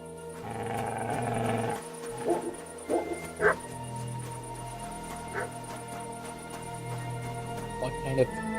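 A dog in the medieval role-playing game Kingdom Come: Deliverance II barks, growls and whimpers in short outbursts over a steady, tonal game soundtrack, with a quieter, intermittent stretch in the middle.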